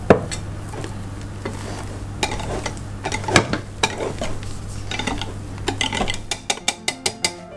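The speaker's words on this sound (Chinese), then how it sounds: "接下来我们就要来混合蛋白霜跟蛋黄糊。" A spatula scrapes and taps against a bowl while meringue is folded into cocoa egg yolk batter for a Black Forest chiffon cake, with soft scraping that ends in a run of sharp, evenly spaced clinks.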